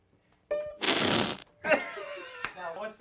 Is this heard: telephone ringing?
no